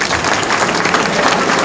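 Audience applause at a merchant navy academy passing out parade, a dense steady wash of many hands clapping, loud and sustained throughout.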